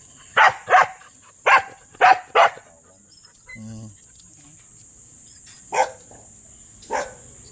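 Dogs tied up on leashes: a quick burst of five sharp barks, then two more isolated barks follow after a pause, with insects chirping faintly behind.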